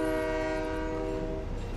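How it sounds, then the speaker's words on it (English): A train in a video game sounds a sustained horn, a loud, steady chord of tones over a low rumble that holds through the whole moment, with no one speaking. "There's a train here."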